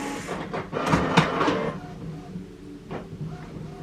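A printer runs in short mechanical bursts, a rapid clattering feed followed by a pause and another brief whir, fairly close and moderately loud.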